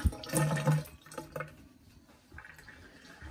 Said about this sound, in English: Make sure they're good and rinsed